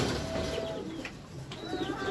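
Racing pigeons cooing close by at a loft during a derby, soft low throaty calls over a steady background murmur, with a few faint chirps mixed in.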